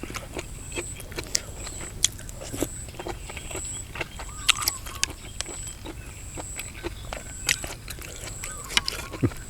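Close, crisp crunching bites and chewing, irregular and continuous, with faint background noise.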